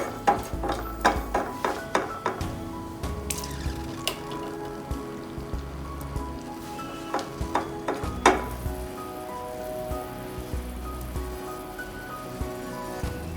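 Cardamom pods and cloves frying in oil on a hot tawa, a soft continuous sizzle with repeated sharp taps and clicks of a utensil against the pan, close-up and without any voices.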